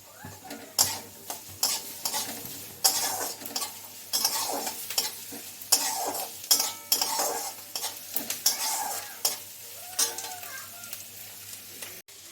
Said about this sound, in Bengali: এই দেখো, বেশ কষানো হয়েছে, তেল ছাড়তে শুরু হয়ে গেছে